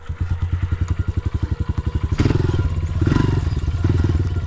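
A 2022 Honda CRF125F dirt bike engine runs close up with a rapid, even thumping idle, then revs up into a louder, rougher throttle blip and settles back, no talking.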